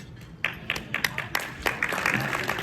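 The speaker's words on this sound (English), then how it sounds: "You heard that applause." Scattered applause from a conference audience, a few bursts of clapping building into a fuller patter over a couple of seconds, fairly close with some crowd murmur.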